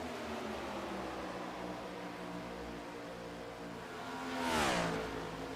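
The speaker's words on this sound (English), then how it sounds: "these Cup cars are making some noise at Daytona." NASCAR-style Cup Series race cars lapping the Daytona track, a steady engine roar with layered harmonic whine, rising into a loud pass-by swell and falling pitch near the end, with no talk.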